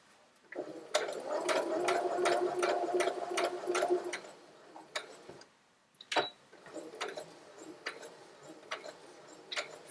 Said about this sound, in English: sew onto this edge of the stitching here